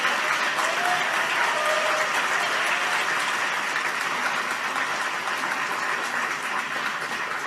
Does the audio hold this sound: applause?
yes